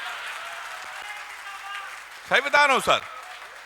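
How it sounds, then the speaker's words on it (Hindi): Audience applause at a Hindi comedy poetry show, a short loud burst of clapping that breaks out after a man's spoken line and quickly fades. "पीछे वाले वही लोग ताली बजा रहे हैं।"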